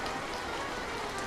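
Animated scene of rain falling: an even, unbroken wash of raindrop hiss, fairly loud and uniform throughout, with no speech.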